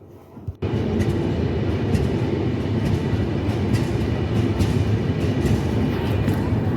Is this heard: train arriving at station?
yes